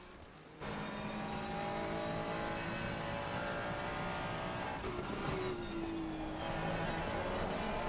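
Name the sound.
race cars at Imola in racing video game, Ferrari and Audi 919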